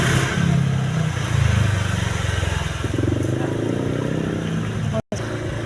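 A motorcycle engine runs and revs nearby for several seconds, a steady mid-pitched drone swelling and easing, with background voices over it.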